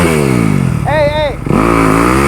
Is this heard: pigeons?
no